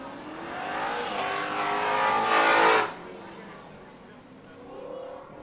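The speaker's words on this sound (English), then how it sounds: "GT cars, sponsored by Viking Performance, are out on track running at the moment" GT race cars at Road America roar past on track, one engine swelling loudly as it passes close and then fading into a lower, distant drone of other cars, with commentary talk under it.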